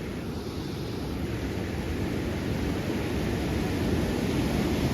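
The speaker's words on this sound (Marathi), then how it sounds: "अतिशय प्रचंड वेगात पाणी वाहत आहे इकडे." Fast floodwater of the Mehkari river surging below an overflowing dam near Sarate Vadgaon village, a constant heavy roar of rushing water with steady broadband noise and no voices.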